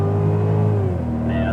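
A 2015 Cadillac CTS-V drives through the corners of the Circuit of the Americas race track, its engine a steady, droning tone that shifts pitch slightly as it runs, heard under someone talking.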